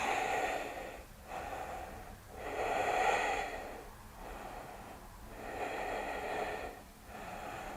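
Slow, deep breaths in and out during yoga practice, each long inhale and exhale audible and close, repeating in a calm, even rhythm.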